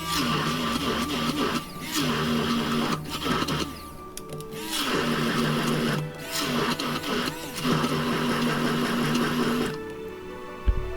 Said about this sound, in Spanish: Vamos a destrozar la zanahoria, la vamos a hacer pasta